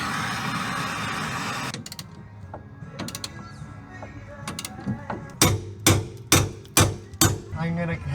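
Metal-on-metal hammer blows drive out a seized lower shock bolt on a 2003 Honda Civic coupe during a coilover install: a grinding rasp, then scattered taps, then five or six loud, evenly spaced strikes close by.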